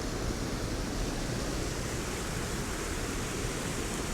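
Mary Ann Falls and its brook in Cape Breton Highlands National Park, a dense, constant roar of rushing water with no breaks, close and loud.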